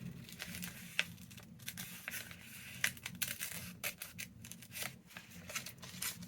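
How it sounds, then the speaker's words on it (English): Sharp scissors stab and cut through altered book paper in a junk journal, giving close, quiet scratchy snips and crinkling rustles with a couple of sharper clicks, alone without talk. "you could just, you know, stab your sharp scissors through"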